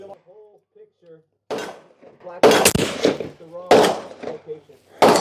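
A 30-06 elk cartridge hunting rifle firing 200 grain Terminal Ascent rounds, a few sharp, loud, close reports with ringing decay, mixed with talk between the shots.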